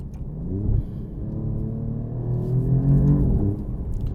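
An Alfa Romeo Giulia Quadrifoglio engine rumbles close by, its deep note rising and falling through a few throttle swells and settling back to a steady low growl.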